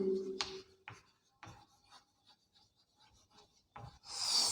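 Writing on a board during a group theory lesson, with a few scattered scratchy strokes and taps at close range, fairly quiet, with a short rushing noise at the end.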